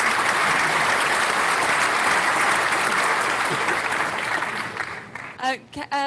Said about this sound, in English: We'll give you a round of virtual applause.